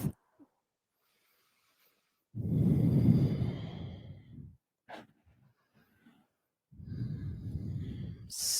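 Slow, deep breaths during power yoga, each long exhale loud and close, arriving twice with quiet pauses between and a short sniff in the middle.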